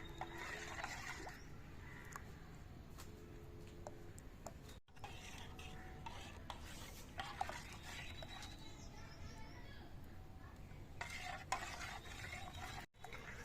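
Dudh pitha, Bengali milk rice cakes, frying in a pan: a soft continuous sizzle with occasional light scrapes and taps of a utensil, faint and close, no talking.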